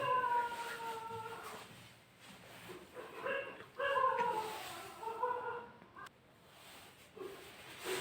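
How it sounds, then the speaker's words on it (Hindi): A dog barks and whimpers in a room in short, whiny yelps and cries that rise and fall, fairly close and moderately loud over a muffled background, with no clear talk. "कुत्ता भी ना अति कर दिया है लोगों। जब वीडियो बना हो तब एक घाव घाव चलना शुरू कर देना है।"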